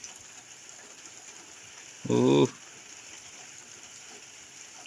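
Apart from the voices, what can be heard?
heavy rain in a storm over rice fields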